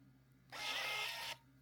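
A small Amazon-bought label printer feeds and prints a label, a short whirring motor buzz lasting just under a second in a quiet room.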